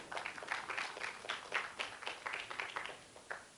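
Congregation clapping during a church sermon, scattered uneven handclaps from the room, faint and somewhat distant, rising and falling in small bursts for a few seconds.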